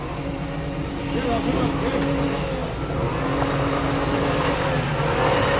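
A car engine revs steadily as the elderly driver gives it gas to pull the vehicle free, a close droning tone climbing gradually while voices shout in the background.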